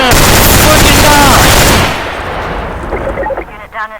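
Loud rapid gunfire bursts in a shooting video game fire continuously for about two seconds, then cut away to quieter scattered game sounds and a brief voice near the end.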